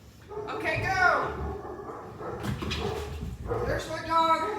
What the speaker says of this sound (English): There's my dog.